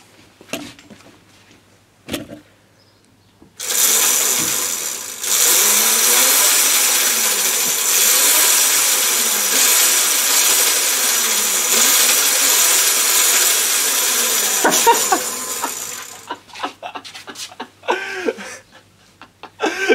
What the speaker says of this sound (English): give the throttle a little twist and see how this back wheel spins